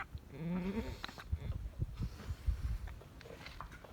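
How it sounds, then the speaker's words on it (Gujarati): A goat giving birth lets out one strained, rising bleat up close, followed by shuffling, thumping movement and rustling in straw, in the Gir forest area of Gujarat, India. "બકરી વૈયા રહી છે એક બચ્ચું આવ્યું છે ને બીજું આવે છે"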